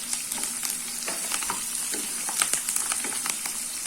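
Green beans with curry leaves and asafoetida fry in a pan for aval vegetable upma, giving a steady, close crackling sizzle with small stirring clicks throughout.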